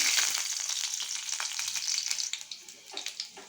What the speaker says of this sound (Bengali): আগে আমি রসুনগুলোকে দিয়ে দিচ্ছি